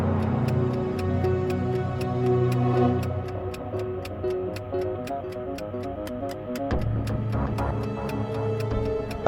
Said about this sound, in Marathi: घड्याळाचा टिकटिकचा.